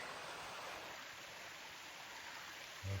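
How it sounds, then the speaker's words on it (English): Water rushes steadily in a stream somewhere down in a wooded valley below a wilderness trail, a soft, continuous hiss of flow that stays faint and distant throughout. "You can hear the water below us."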